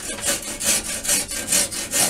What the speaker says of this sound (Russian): обычной поперечной пилой.